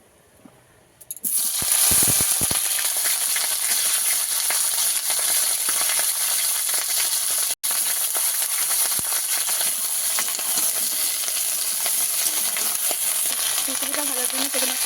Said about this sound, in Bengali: আমি ফুলকপিগুলো ভেজে নেব।